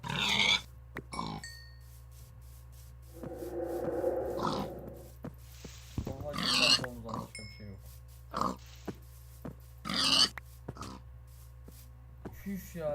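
Low, stuttering pig grunts from Minecraft come in short bursts, spread across the stretch with gaps of quiet and some talk in between.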